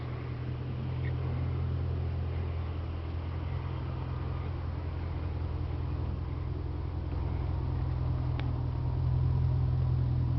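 Dodge Charger with a Hemi V8 and aftermarket Flowmaster mufflers idles steadily, a deep, even exhaust rumble held close and loud throughout with no voices.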